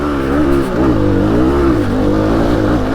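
A Fantic Enduro 250 2019 enduro motorcycle engine labors steadily up a hill climb, its pitch rising and dipping with throttle and gear changes, loud and close throughout.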